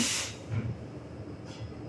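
Whole spices such as cinnamon, cloves, bay leaf and cardamom sizzle in hot coconut oil, a steady soft hiss with faint crackle bursts, close and alone.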